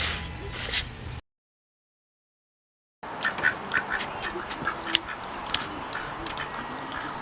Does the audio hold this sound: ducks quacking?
yes